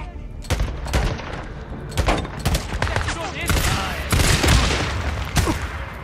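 Repeated gunfire in the Days Gone video game, shots cracking out in irregular bursts over a busy mix of game sound, with a voice talking in places.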